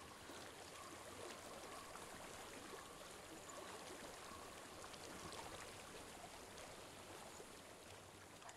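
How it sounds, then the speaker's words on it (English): Steady flowing water in Hellblade: Senua's Sacrifice, a continuous soft rushing wash that stays even and fairly faint throughout, with no voices over it. "I hear water. Go to it."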